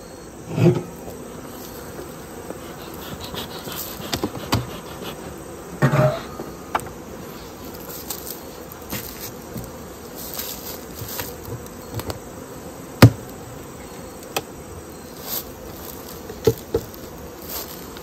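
Honeybees buzz around a weak hive during frame work, a steady low hum with individual bees zipping close past at scattered moments and occasional light taps and knocks, with no voices.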